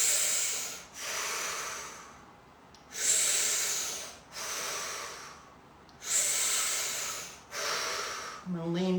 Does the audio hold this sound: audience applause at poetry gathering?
no